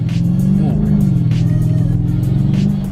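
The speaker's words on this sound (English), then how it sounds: "nice little exhaust rumble." Exhaust rumble of a 2003 Mercedes E55 AMG with mid-length headers and high mileage, a loud, deep, close burbling engine note that swells briefly as it revs, with faint voices in the background.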